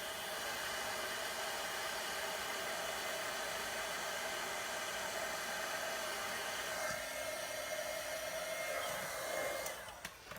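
A heat embossing tool blows hot air to melt embossing powder on a handmade card, a loud, steady broadband whoosh held nearly the whole time, its tone shifting slightly near the end before it cuts off.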